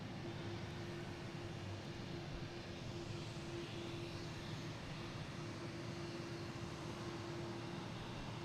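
A PAL Airlines airliner climbs away after takeoff from Boston Logan, heading for Halifax, heard as a steady, distant, broadband jet roar with a low engine hum, fairly faint throughout.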